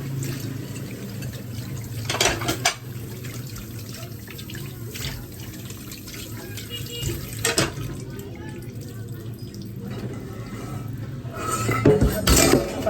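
Dishes, pots and pans washed at a home sink, with tap water running steadily and occasional clinks and clatters of crockery and utensils, close and moderately loud, with some faint talk in the background.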